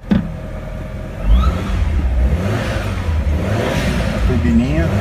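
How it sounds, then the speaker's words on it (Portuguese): A stock Mitsubishi Eclipse engine accelerates, a steady mid-pitched engine drone that swells after a brief start and holds loud and close, with a voice briefly over it near the end. "Veja agora um Eclipse original acelerando."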